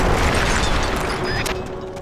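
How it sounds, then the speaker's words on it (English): A C4 charge detonates against a barricade in a stealth video game, a loud boom that rumbles on and slowly fades over about two seconds. "Blow up that barricade."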